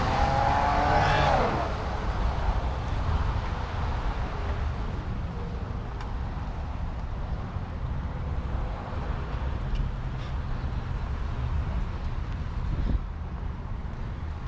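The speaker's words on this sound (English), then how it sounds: "just a guy backing up and one waiting to turn." Car traffic in a shopping-center parking area, with a car backing up and another waiting to turn. A steady, moderate road and engine rumble runs throughout, with wind noise on the microphone.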